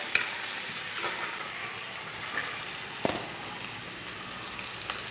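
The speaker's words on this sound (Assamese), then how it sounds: "এইখিনি পিঁয়াজ ভাজি লৈছোঁ" Onions frying in mustard oil in a home kitchen, a soft steady sizzle with occasional spatula scrapes and light pops, close but quiet, no talking.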